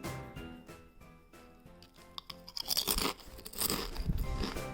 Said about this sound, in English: These chips were even more crunchy